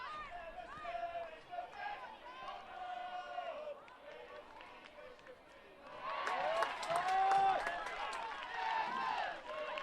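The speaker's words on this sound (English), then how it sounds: "There is a really good crowd here" Crowd at a women's league football match between Everton and Tottenham Hotspur, a distant murmur and cheering swell rising in the second half, heard under a commentator's voice.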